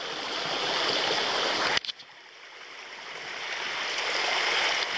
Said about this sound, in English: So, after every time it rains, my trail ends up being a river.